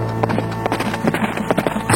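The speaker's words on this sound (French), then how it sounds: "un chevalier accourut à bride abattue vers la lice" A knight's horse gallops toward a tournament ground, hoofbeats thudding in a quick steady rhythm, fairly loud and close, over a dense backdrop without clear speech.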